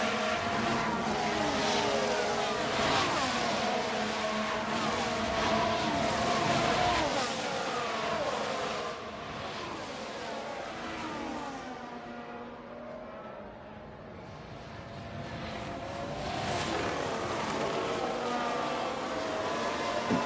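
A Porsche race car in the F1 Manager 23 racing game at Spa passes by, its engine whine rising and falling across the clip amid other car engine drones, with no talk.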